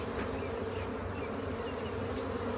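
A honeybee swarm at a hive fills the air with a dense, continuous buzzing hum, soft and steady throughout with no voices.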